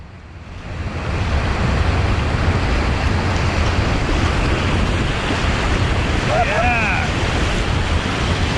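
Whitewater rapids on the New River in West Virginia rush loudly and steadily after a brief quieter start, a constant churning roar with a faint voice-like call near the end.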